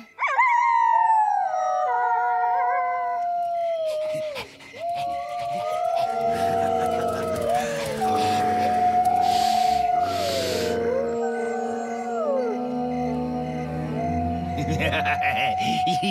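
Young wolf cubs howling in a cartoon, several long wavering howls rising and falling, loud and close, with overlapping voices joining in and dense music-like layers behind.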